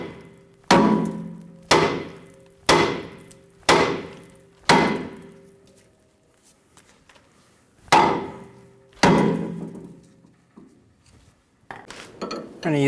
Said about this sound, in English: We're going to hit the side of the knuckle and pop the tie rod out of the